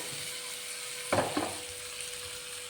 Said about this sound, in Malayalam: ഇനി ഇത് ഓവറായിട്ട് ഇളക്കാതെ നമുക്ക് പതിയെ ഒന്ന് മറിച്ചിട്ട് ഫ്രൈ ചെയ്തെടുക്കാം